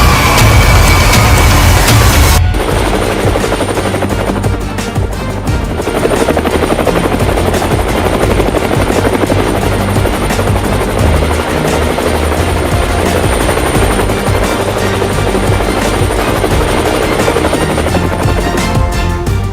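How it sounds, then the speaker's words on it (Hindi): An Indian Air Force Light Combat Helicopter roars up close with a loud, steady, buzzing rotor and engine drone that continues throughout without talking. "और अब मैं मौजूद हूँ लाइट कॉम्बैट हेलीकॉप्टर के पास।"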